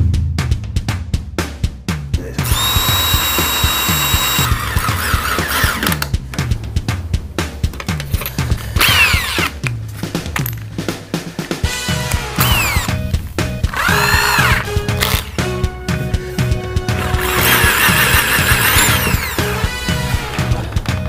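A power drill drives screws into wood slatted boards and mini pallets for a DIY doghouse, with loud, close bursts of whirring motor and ratcheting bites repeating throughout, broken by short pauses.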